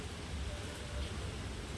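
Soft, steady rain falls outside during the cooking of Chinese-style veg fried rice, a faint, even hiss of drops with no breaks and no voices.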